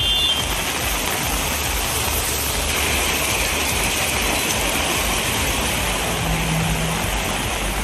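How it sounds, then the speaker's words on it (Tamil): Heavy rain pours down in Thanjavur district as a dense, unbroken roaring hiss that stays loud and even throughout, with no voices. "மழையின் காட்சி இது"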